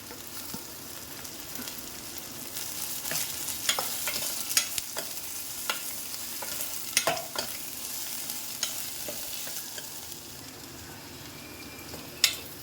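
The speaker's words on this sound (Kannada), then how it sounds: "ಈರುಳ್ಳಿ ಸ್ವಲ್ಪ ಲೈಟಾಗೆ ಫ್ರೈ ಆದಮೇಲೆ ಹಾಗಲಕಾಯಿ ಕೂಡ ನಾವು ಇದರಲ್ಲೇ ಹಾಕೋಣ" Bitter gourd and onion are stirred and fried together in a pan for a healthy palya, giving a steady sizzle with scattered scraping clicks of the spoon. The sounds are close and moderately loud, with no talking.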